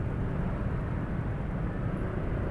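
A Honda PCX scooter engine runs with a slightly rough edge, a constant low droning rumble at steady volume and close range, with no talk.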